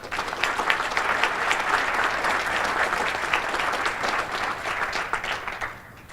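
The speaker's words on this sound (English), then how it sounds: "Please join me in giving them a round of applause to the individuals who are working to make our communities thrive." An audience at a mentor rally reception applauds steadily, a dense wash of many hands clapping that holds loud and even for several seconds before starting to fade at the end.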